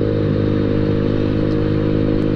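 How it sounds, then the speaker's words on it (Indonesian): A 100cc Honda Beat automatic scooter fitted with a timing kuda module holds its engine at steady revs on launch control, producing a loud, continuous, buzzy drone close by with no talking. "Launch control kita coba sedikit ya, si launch controlnya."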